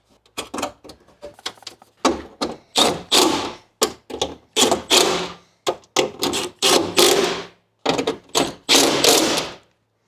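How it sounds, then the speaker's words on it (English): Ratcheting 10mm nuts down onto the door studs of a YJ Jeep Wrangler during a power window regulator install, rapid bursts of loud close clicking and rattling in uneven spurts separated by brief pauses. "Now we just have to run the provided 10mm nuts down onto these."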